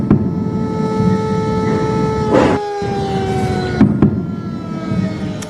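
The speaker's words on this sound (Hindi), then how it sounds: "जगह जगह सायरन, धमाके" A loud, steady air raid siren wails on one sustained pitch that slowly drifts downward, with a couple of sharp explosion bangs cutting through partway along, during a Pakistani attack in Jammu.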